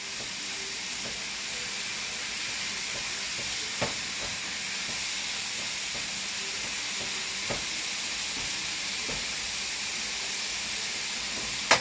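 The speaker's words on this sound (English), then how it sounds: "She heard the meat starting to brown" Ground meat browns in a pan for a family spaghetti sauce, giving a steady close hiss and sizzle that runs the whole time, with a few faint clicks and knocks of stirring.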